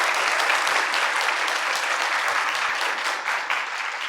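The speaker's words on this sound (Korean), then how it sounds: "여러분 큰 박수 보내주시면 좋겠습니다" An audience at a Korean democracy talk concert applauds in a dense, steady wash of clapping that holds loud and unbroken for several seconds, with a faint voice underneath.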